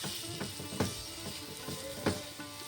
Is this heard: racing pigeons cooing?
no